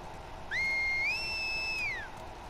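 A single rising then level whistle signal in The Last of Us Part II, a clear tonal whistle lasting about a second and a half over low game ambience.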